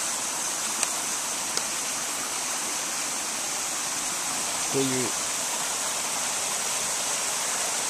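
A clear, spring-fed stream babbles steadily nearby, producing a constant bright rushing wash of water. A voice speaks briefly over it.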